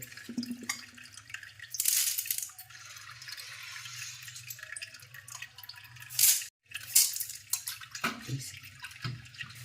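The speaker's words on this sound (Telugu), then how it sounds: "ఇట్లా శుభ్రంగా కడుక్కొని వడగట్టుకోవాలి" Grains are washed by hand and drained in water: close splashing and sloshing, a brief pouring burst, then dripping and trickling. No voice is heard.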